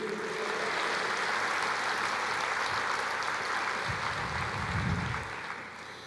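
A church congregation applauds during a sermon, a broad continuous roar of clapping that holds steady, then thins slightly toward the end.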